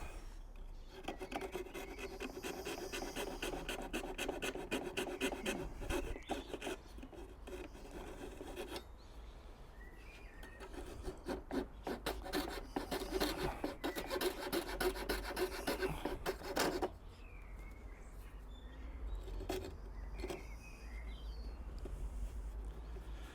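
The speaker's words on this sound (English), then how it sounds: "Just finish that off with a coping saw." Coping saw cutting through a wooden skirting board by hand, a close, steady rasping of rapid back-and-forth strokes that pauses briefly twice before resuming.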